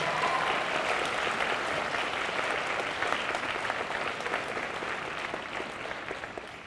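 Audience applause fills the room at a high school winter band concert, a steady wash of many hands clapping at moderate loudness that tapers slightly toward the end.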